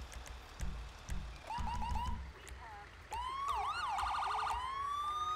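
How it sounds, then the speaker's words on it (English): Ambulance Q siren in the FiveM game: rising and falling electronic wails that sweep up and down, beginning with a few short chirps and building into a loud, continuous siren with rapid warbling. "whenever I go up on the D-pad in the ambulance, it is a Q siren"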